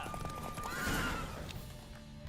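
A video game horse whinnies once in a high, wavering neigh over light hoof clatter, fairly close and otherwise without speech.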